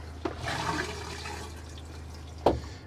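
RV toilet flushing clear water through its lines: a close rush of water that swells and then tapers away, with a couple of brief knocks and splashes, one of them loud near the end.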